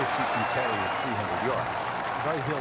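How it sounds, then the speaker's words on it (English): Crowd applause and cheering at Bay Hill in the EA Sports Rory McIlroy PGA Tour golf video game, a steady dense roar filling the whole stretch while a commentator talks over it. "This crowd's absolutely crazy, man. It's like, they get a par and they're absolutely going ballistic."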